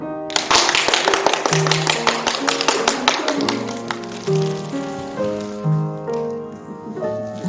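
A church congregation in London claps in welcome for a newly baptized member, a dense burst of close applause that thins into scattered claps as organ or piano notes take over.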